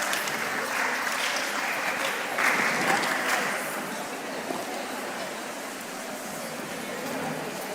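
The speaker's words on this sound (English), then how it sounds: "give her a round of applause" An audience at the close of a mentorship session applauds in a steady, soft patter of many hands, fairly distant, with a slightly louder swell partway through before it settles.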